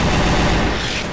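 A brief, loud, dense burst of rapid gunfire in the video game Left 4 Dead, heavy booming shots blurring together with no gaps.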